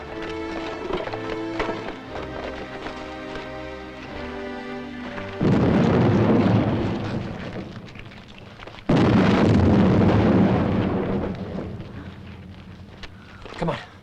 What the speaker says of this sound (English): Explosion coming! Explosion coming!